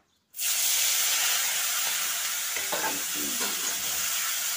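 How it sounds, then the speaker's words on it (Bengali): Prawns coated in salt and turmeric hit hot oil in a kadai with a sudden loud hiss that settles into a steady close sizzle, with a few faint stirring clinks, no talk. "তো কড়াইতে দিয়ে দিয়েছি তেল। তো প্রথমে চিংড়িগুলো ভেজে নেব।"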